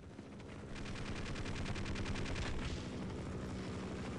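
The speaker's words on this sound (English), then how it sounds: "Are you trying to shoot at me?" Rapid gunfire from the video game Half-Life runs as a dense, steady stream of shots over a low continuous rumble, loud and sustained for several seconds.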